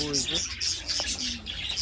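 Small caged birds, including yellow ones, chirp and tweet in a busy chorus of short high calls over a low background hum, with a voice briefly audible nearby.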